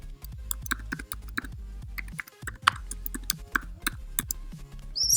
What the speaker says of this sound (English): So once you have typed that, you click enter.